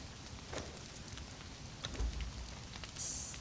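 Steady rain falls as an ambient sound effect in a roleplay scene, a soft continuous hiss of drops throughout with a faint low rumble and a brief high chime near the end.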